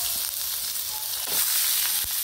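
Onion and ground beef fry in a pan for a meat lasagna, giving a steady close sizzle with a couple of brief stirring scrapes.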